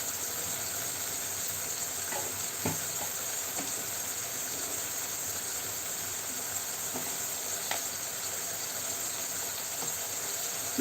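Chili, turmeric and other ground spices frying with shrimp and eggplant in a pan give a steady, even sizzle and hiss, with a few faint clinks of stirring near the start and end.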